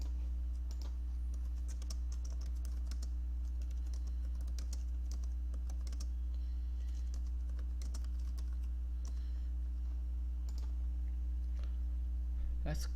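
Someone types a command on a computer keyboard, a steady stream of quick, close key clicks over a constant low electrical hum, continuing for the whole stretch without pause.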